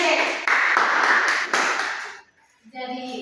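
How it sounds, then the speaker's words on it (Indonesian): Children in a mathematics lesson clap together in a short burst of close, rhythmic claps that fades out, followed by a voice speaking. "Oke, tepuk tangan untuk adik-adik."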